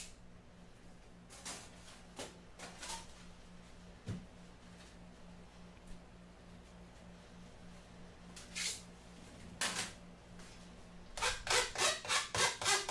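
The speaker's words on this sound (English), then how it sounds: "Holes, of course, needed some rasping, just so they'd be nice." Hand rasping along the cut holes of sheet metal pieces for a dance pad build, soft intermittent scraping strokes that end in a fast run of rhythmic rasps, close and fairly quiet.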